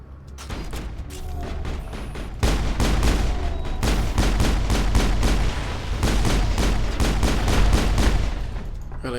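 Rapid gunfire crackles in the sci-fi shooter game Mass Effect, sustained bursts of shots with heavy booming impacts layered over one another, loud and nearly continuous throughout.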